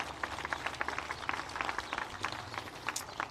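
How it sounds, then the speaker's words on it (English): Audience applause for a municipal band concert: a steady wash of many hands clapping, dense and fairly even throughout, heard at moderate distance from within the crowd. "Give them a big round of applause."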